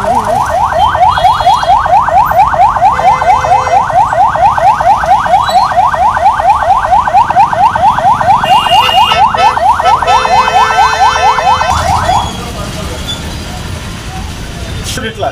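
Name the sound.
emergency siren during a mock drill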